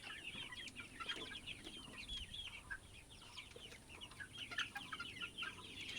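Sonali chickens cluck on a hot poultry farm, a faint, busy chorus of many overlapping clucks and chirps from birds close by and farther off.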